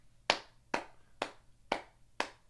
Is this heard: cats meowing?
no